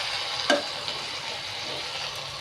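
A ladle scrapes once through tomato egg curry in a pan, a short clink over a soft steady sizzle.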